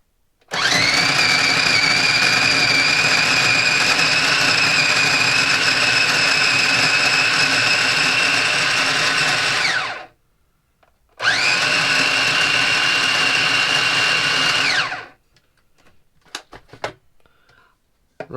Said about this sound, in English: Food processor, breaking it down quicker.